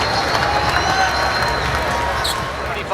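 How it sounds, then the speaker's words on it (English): Crowd of Lakers fans and Rockets players applauding and cheering at an NBA basketball game as an injured rookie leaves the court; steady, dense arena applause, moderately loud and continuous, with commentator talk over it. "He's getting rounds of applause here from not only the Lakers and their fans"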